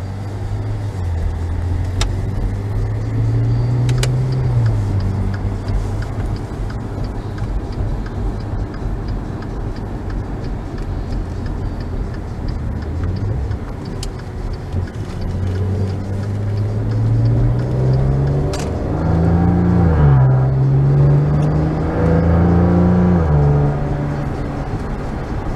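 A 2015 Maserati Ghibli SQ4 AWD accelerating onto a highway on-ramp, its engine note rising and falling through gear changes, loud and steady from inside the cabin, with no talk.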